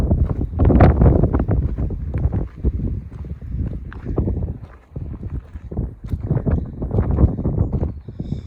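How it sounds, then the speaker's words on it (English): Morning wind on a hiking trail along the Outer Mountain Loop in Big Bend National Park, gusting hard across the microphone in loud, rumbling buffets that rise and ease over several seconds, with no speech. "A little bit of wind this morning, but not too bad."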